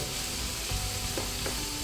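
Masala frying in a pan, a steady soft sizzle with faint stirring scrapes and small clinks, quiet and continuous.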